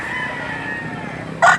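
A rooster gives one short, loud crow close by at a chicken market in Lipa City, Batangas. It rises suddenly near the end over a low hum of background market noise.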